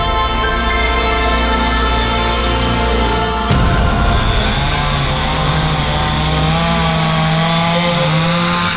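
Chainsaw cutting wood in a forest setting, running loud and steady throughout, with a sharp change in the motor's pitch about halfway through as the blade bites into the timber.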